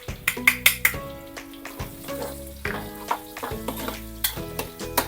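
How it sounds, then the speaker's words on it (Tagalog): Ginger and then about eight garlic cloves sautéing in a pan of oil, with a steady sizzle and repeated stirring scrapes and clinks up close, several sharp utensil taps near the start, while background music plays throughout. "Gisa muna natin itong luya. At saka mga 8 cloves na garlic."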